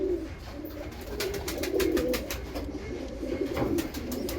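A pigeon sitting with a tiny chick on a foster pair's nest coos steadily and close by, low repeated throaty calls with sharper bursts, no talking over it.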